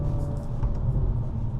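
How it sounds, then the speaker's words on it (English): A tuned 4-cylinder engine in a Hyundai Elantra N gives a low, steady rumble at an easy pace, heard from inside the car with a faint tick or two on top. "you definitely hear that 4-cylinder engine, and it's tuned"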